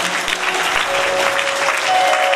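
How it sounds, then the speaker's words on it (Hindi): An audience claps along rhythmically during devotional singing at a Bhagavat Katha gathering in Darbhanga, a dense, continuous wash of many hands clapping close and loud throughout. "ताली की सेवा करते हुए गाएं।"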